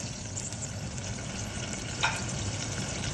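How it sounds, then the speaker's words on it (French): Bell peppers frying in oil in a pan, a low steady sizzle throughout with one brief clink partway through. "Mettre de l'huile pour faire revenir vos poivrons."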